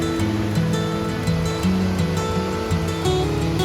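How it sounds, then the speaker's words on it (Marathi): Clear water babbles and gurgles over rocks in a rocky stream beside the Rameshwar Mahadev temple near Dalwat in Nashik district, a steady, close, continuous rush with no talk. "खडकावरून मस्त पाणी खळखळ करून वाहतं"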